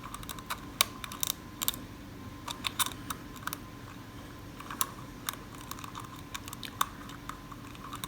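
Small metal picks and a tension tool work inside an antique ILCO lever lock, giving faint, close clicks and ticks scattered irregularly over a quiet background.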